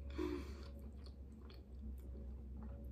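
Crunchy garlic toast with cheese and tomatoes being chewed close up, a steady run of crisp bites and grinding crunches over a low hum.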